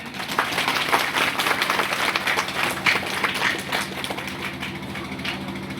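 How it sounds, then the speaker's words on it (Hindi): An audience at a Hindi poetry gathering breaks into loud, sustained applause, a dense wash of many hands clapping close by throughout, with no speech over it. "उनके लिए जोरदार तालियां"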